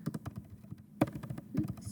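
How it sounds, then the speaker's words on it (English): Uneven bursts of computer-keyboard typing, close clicks and taps in quick irregular runs with brief pauses, a faint voice murmuring underneath. "Excuse my typing."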